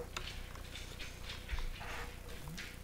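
An indoor dog whimpers and pants softly for a few seconds with a faint scuffle in the room, fairly quiet and without voices.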